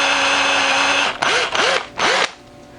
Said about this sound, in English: Now I need to drill the other two holes.